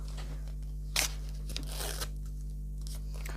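A sharp tearing rip of thin packaging, followed by softer crinkling and rustling of plastic against a steady background hum.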